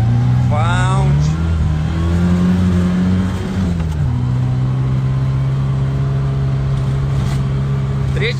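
Engine of a sports liftback car heard from inside the cabin, revving up with rising pitch, dropping briefly at a gear change, then holding a strong steady drone, loud and close.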